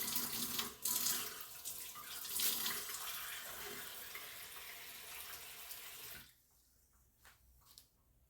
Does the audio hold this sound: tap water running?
yes